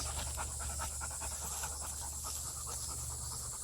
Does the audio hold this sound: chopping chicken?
no